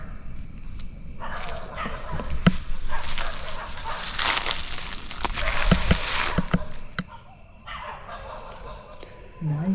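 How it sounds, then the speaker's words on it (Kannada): Dogs bark in a forest at night, sharp, scattered yelps rising out of a dense, hissing background, loudest near the middle and fading toward the end, with no talking. "ಎಂತಕ್ಕೆ ನಾಯಿಗಳು ಇಷ್ಟು ಬೊಗಳ್ತಾ ಇದ್ದಾವೆ?"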